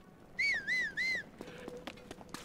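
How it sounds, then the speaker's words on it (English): Link whistling three times while sprinting in Zelda: Tears of the Kingdom, three wavering rising-falling notes in quick succession, followed by lighter clicks and game sound effects. "They patched whistle sprinting"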